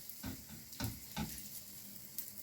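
Mayonnaise meat cutlets frying in a pan, a faint, low sizzle broken by a few soft knocks and scrapes as the patties are handled.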